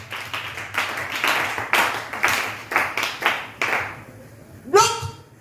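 A congregation claps together in a church service acclaiming the Lord, a steady rhythmic burst of hand claps filling the room, ending as a voice briefly rises over the last claps.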